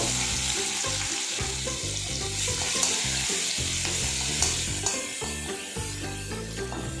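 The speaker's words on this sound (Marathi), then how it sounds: "तेल गरम झालेलं आहे, आता आपण ही आलं लसूण आणि मिरचीची पेस्ट टाकून घेऊ।" Ginger, garlic and chili paste fries in hot oil in a wok, giving a loud, continuous close sizzle with stirring clatter throughout and no talking.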